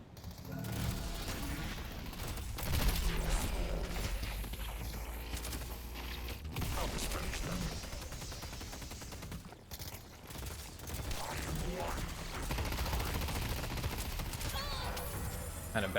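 Gunfire in the video game Deadlock: dense, continuous rapid shots and mechanical clatter with game effects, running steadily throughout, with a voice speaking in places.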